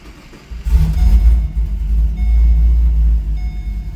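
A straight-piped Chevrolet Caprice PPV engine cranks and fires, then holds a loud, deep, rumbling idle with a slight rise in revs, very close and alone.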